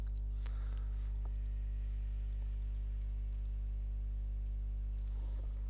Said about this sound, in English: I click next